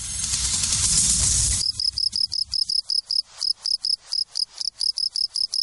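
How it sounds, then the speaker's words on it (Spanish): Crickets (Gryllidae) in a city chirp in a rapid, regular series of sharp pulses, loud and close, after a brief burst of broadband noise at the start. "Los grillos están saliendo para aparearse."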